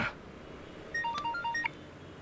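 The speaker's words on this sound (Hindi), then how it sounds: "ये किसका फोन आ गया?" A short electronic phone ringtone plays alone: a quick sequence of bright, clear melodic tones in a patterned run, moderately loud.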